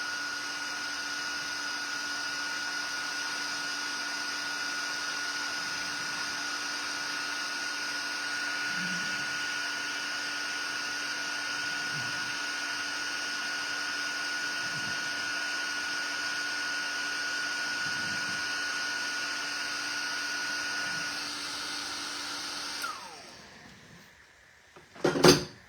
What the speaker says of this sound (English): And then we'll go ahead and we will heat set our sentiment.